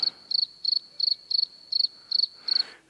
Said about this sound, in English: we're gonna put some crickets in that one